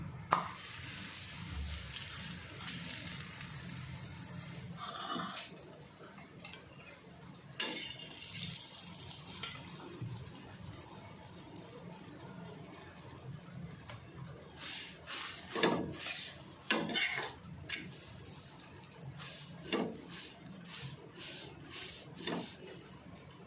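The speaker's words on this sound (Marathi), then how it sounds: "आता मी शेकून घेते तवा आता गरम झाला आहे" Dahi methi thepla flatbread roasting on a hot tawa over a high flame, with a steady low sizzle under scattered clinks and scrapes of a spatula and utensils, no talking.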